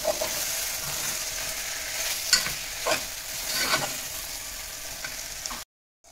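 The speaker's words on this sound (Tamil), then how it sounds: "மஷ்ரூம் ஆட் பண்ணிவிட்டு சிம்மில் வச்சுடுங்க, நல்லா சிந்துடும்." Mushrooms sizzle and fry in a pan for a mushroom biryani while a utensil stirs and scrapes them in a few distinct strokes, close and moderate in volume, ending abruptly in silence.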